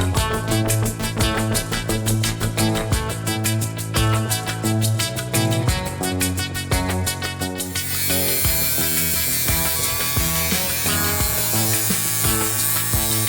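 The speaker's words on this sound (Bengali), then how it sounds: "দেখতে পাচ্ছেন ট্রিমারটি নতুনের মতো কাজ শুরু করে দিয়েছে।" A repaired electric hair trimmer buzzes steadily in the second half, after a stretch of loud rhythmic music that carries through the first half.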